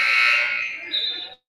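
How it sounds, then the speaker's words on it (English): A basketball game horn blares for a substitution at a high school gym, one loud sustained electronic buzz that sounds alone for over a second before cutting off abruptly. "Got a buzzer. A new Delta player will check in."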